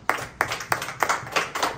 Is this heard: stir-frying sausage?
no